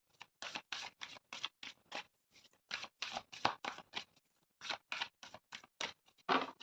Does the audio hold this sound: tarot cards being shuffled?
yes